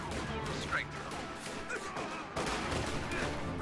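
Machine gun and rifle fire crackle in a World War II-style strategy video game, scattered gunshots and bursts under a continuous commentator's voice.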